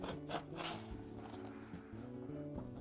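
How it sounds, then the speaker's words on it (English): Putty knife dragging texture paste side to side across a stencil, a soft continuous scraping rub that runs throughout at close range, with faint low background hum. "I'm just going to go in with my putty knife and kind of move it side to"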